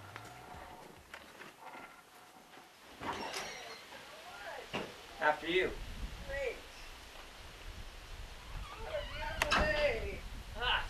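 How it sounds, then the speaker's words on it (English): A door is opened with a few clicks, scrapes and rustles of movement at close range, while people talk nearby. "I'll go first and open the door for you."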